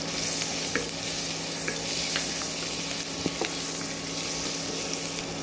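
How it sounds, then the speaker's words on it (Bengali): Chopped garlic frying in a pan with a steady, close sizzle, while a utensil scrapes and stirs in a few sharp strokes over the constant crackle. "এবার একটু রসুন কুচি দিয়ে দিলাম।"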